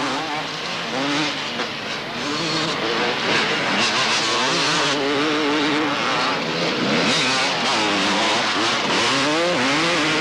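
A motocross bike engine races up a mountain hill at the 1990 Bathurst King of Dirt event in New South Wales, loud revving with shifting pitch as the rider climbs, under steady commentary talk.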